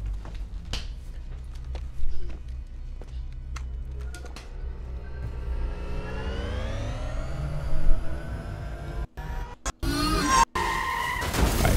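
A film sound effect of a car skidding to a stop, a long rising tire screech that builds over several seconds and ends in abrupt cuts and bursts, with birdlike tones early on.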